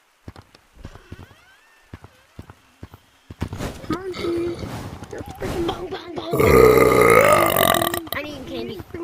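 A loud, long, drawn-out burp in the middle of casual online game chatter, with lively voices talking before and around it.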